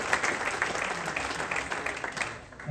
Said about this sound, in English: Good round of applause for the people